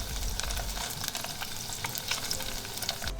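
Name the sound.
pan frying fried tofu in a pan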